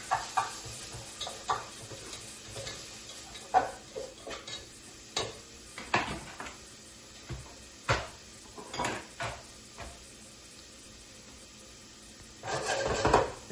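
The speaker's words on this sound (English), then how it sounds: "we'll get our onions in a pot. That's a shout out, by the way. Gonna just sweat these onions for a couple minutes." Onions sweat in a pot for ramen, with a soft low sizzle under repeated scraping and clanking of a utensil against the pot, stirred in irregular bursts close by.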